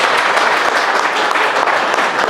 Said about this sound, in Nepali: उहाँहरूको लागि एकचोटि जोरदार ताली बजाइदिनुहोस्।